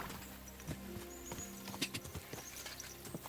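Horse hooves clip-clop in a steady walking rhythm in Kingdom Come Deliverance 2, with an occasional snort or whinny over a low ambient bed, fairly close and moderately loud with no talking.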